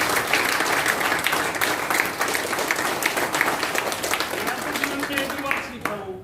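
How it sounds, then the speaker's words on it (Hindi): An audience at a talk in Hotel Godwin claps loudly, a thick, continuous burst of applause from many people that stays strong and close before cutting off abruptly at the end. "एक बार जोरदार तालियां।"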